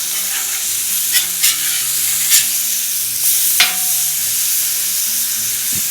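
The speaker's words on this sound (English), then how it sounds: "So it's only been a few minutes, and so we're gonna flip these burgers. Give it a little press down." Burger patties sizzle steadily on a hot griddle after being flipped and pressed down for an Oklahoma fried onion burger, with a few sharp scraping clicks cutting through the constant frying hiss; no one speaks.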